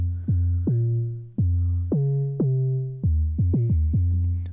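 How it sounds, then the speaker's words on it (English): A warm, boomy 808-style synth bass run through a Kilohearts nonlinear filter plays a sequence of punchy sliding notes, each striking hard and gliding down in pitch, with a quicker cluster of hits near the end. "we've got a nice like 808 thing that we can use"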